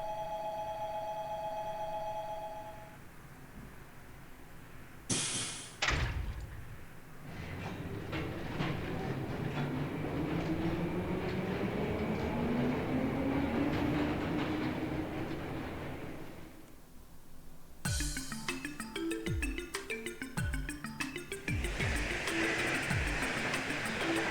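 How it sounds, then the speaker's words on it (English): A train departs a station platform in the video game The Legend of Heroes: Trails from Zero, with a rising mechanical drone and rumble that builds steadily, followed by a rhythmic clattering of wheels, with no talk. "Platform 1, the train bound for the Republic is now departing."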